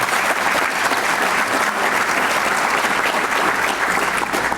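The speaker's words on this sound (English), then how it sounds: "How about a round of applause for Janice?" At the 2015 Mayor's State of the City event, a large indoor audience applauds an honoree. The clapping is dense, loud and close, a continuous roar that holds steady for several seconds without speech.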